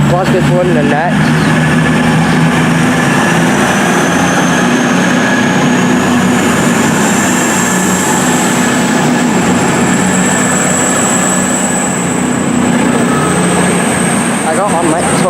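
A Glasgow to London train passing at Stockport station, a loud steady rumble of engine and wheels lasting throughout, close by, with people talking over it.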